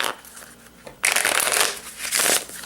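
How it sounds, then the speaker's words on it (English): A deck of board game cards is shuffled, first as a soft riffle and then as a louder, steady shuffling burst close to the microphone, with no one speaking. "we're going to spend 2 points, 1, 2, to shuffle this back into the deck"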